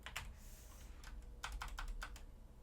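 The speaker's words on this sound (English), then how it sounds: "I'm just navigating with the arrow keys on my keyboard for this." Computer keyboard arrow keys pressed in quick succession, a few isolated clicks then a run of crisp, close taps at a steady pace, fairly quiet.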